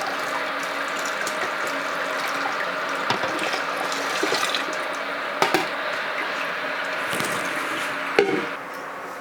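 Water runs steadily during a coffee porter homebrew sparge, a continuous hissing flow with occasional clinks and knocks of equipment over it.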